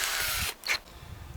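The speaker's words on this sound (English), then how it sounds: "I went through those holes with the drill on the underside" Power drill boring out screw holes on the underside of a plastic trash can, a loud continuous whine that cuts off abruptly midway, followed by a brief burst of drilling and then quieter handling noise.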